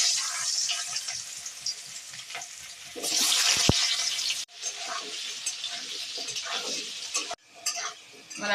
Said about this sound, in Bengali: আমি আলুটা একটু ভেজে তুলে নেব